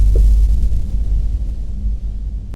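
A deep synthesized noise burst rumbles heavily, low and loud at first, then slowly thins and fades before cutting off abruptly.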